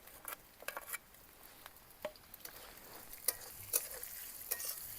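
Chopped onion fries in a pan with ginger and garlic, giving a soft, continuous sizzle. Irregular scraping clicks of stirring cut through it, faint and close, with no voices.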